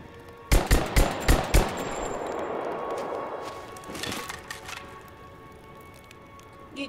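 Four sharp gunshots crack in quick succession in Rise of the Tomb Raider, followed by softer scattered shots and a low hissing bed that sounds like rain.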